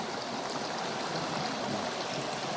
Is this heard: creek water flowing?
yes